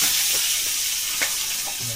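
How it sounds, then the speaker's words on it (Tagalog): Steady, close sizzling of food frying in hot oil, a constant crackling hiss with a few brief pops and no talking. "Doon nagpiprito sila."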